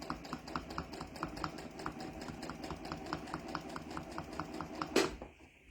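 A sewing machine stitches during free-motion ruler quilting, with a rapid, even needle clatter that runs for several seconds before stopping.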